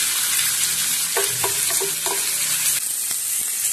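Pork hitting a very hot pan slicked with olive oil for an Indian-style spicy curry, a loud steady sizzle with a few clanks of a utensil stirring the meat partway through.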